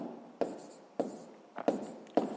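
Pen or pencil scratches across paper while math notes for a sixth-grade problem are written, short close strokes with a few sharp taps, quiet and without speech.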